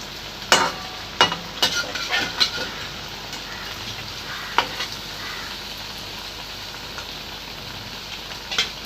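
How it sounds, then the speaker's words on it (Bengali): Bottle gourd fritters fry in hot oil with a constant soft sizzle. Sharp scraping and turning knocks come close by, bunched in the first few seconds and then scattered. No one talks. "বড়াগুলো ভাজা হয়ে এসছে"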